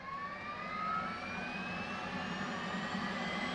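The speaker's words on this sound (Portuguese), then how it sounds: "Vamos ligar a APU" An F/A-18C Hornet's auxiliary power unit whines as it spools up in the DCS World flight simulator, a rising high-pitched tone over a steady low rumble, quiet and continuous.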